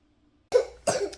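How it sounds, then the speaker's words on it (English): Two sharp, close coughs in quick succession, each a harsh burst, following a moment of near silence. "And we start the video with coughing."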